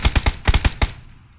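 Gunfire in the battle royale game PUBG: a rapid burst of about seven loud, sharp shots in quick succession, fading into a short decay with no talking.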